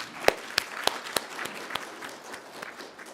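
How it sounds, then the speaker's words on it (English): A handful of scattered, separate claps from an audience at a university Pi Day event, a few sharp hits near the start that thin out and fade quickly. "Can we give them a round of applause as well?"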